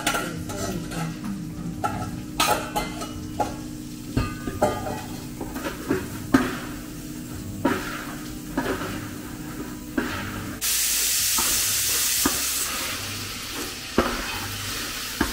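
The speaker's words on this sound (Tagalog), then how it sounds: "Lalagay natin itong oil, guys. Ayan, after nito, haluin lang natin siya." Food frying in hot oil is stirred with repeated utensil scrapes over a steady sizzle, and the hiss swells louder and brighter near the end as the oil spits.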